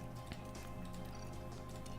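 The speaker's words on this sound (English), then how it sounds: "Practice 3, in the rain." Rain in the F1 Manager 24 racing game falls during a wet practice session at the Mexican Grand Prix, a steady hiss of drops on surfaces mixed with a continuous low drone, no voices.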